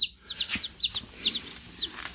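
Several young hens newly arrived on a farm, making soft high chirping clucks in quick repeated bursts, close and fairly quiet with no talking.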